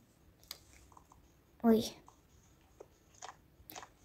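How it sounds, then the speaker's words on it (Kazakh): Ice cream being eaten, with soft close chewing and mouth clicks and one louder burst of sound midway, faint and intermittent against a quiet room. "Мен балмұздақ жеймін."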